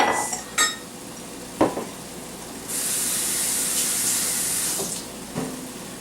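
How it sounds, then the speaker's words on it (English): Water is poured into a pot of Spanish rice topped with sausage, giving a steady splashing stream of a few seconds after light clinks of a pot and utensils, with no talking. "Add a little bit more water, because 2 cups is never enough."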